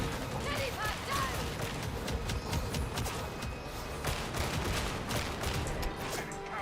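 Dense, continuous gunfire from gunners in the video game Darktide, a steady roar of rapid shots and thuds filling the whole stretch without pause.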